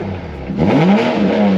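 A Toyota Supra engine revs once, climbing in pitch then settling to a steady higher drone, close and loud.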